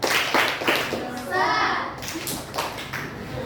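Schoolchildren in a classroom perform a rhythmic clapping routine, patterned claps mixed with their chanting voices and a teacher speaking, close and lively throughout.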